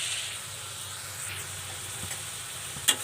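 Red lentils tipped into a pan of spice paste for a cauliflower dal sizzle and fry steadily, a soft continuous hiss with faint scraping of stirring and one brief clink near the end.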